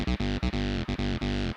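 A Roland TB-3 bass synth plays a short, choppy looped bass line through a compressor, wah and amp simulator. The tone is buzzy and distorted, with rhythmic gaps between the phrases.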